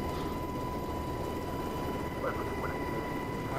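UH-60 Black Hawk helicopter rotor and engine in a flight simulator, a constant loud throbbing rumble with a steady whine on top, lasting the whole stretch, with faint brief chirps near the end.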